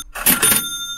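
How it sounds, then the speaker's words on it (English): A ka-ching cash register sound effect fires from a button on a live crypto news stream: a sharp metallic clack followed by a bright ringing chime that lingers and fades, loud and alone. "Let me give you that ka-ching button"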